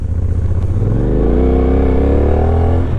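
A CF Moto 450 NK roadster's engine revs loud and close, pitch climbing steadily as it accelerates with a rough, throaty note; no talking.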